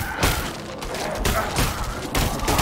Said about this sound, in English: Corpse explosion, oke.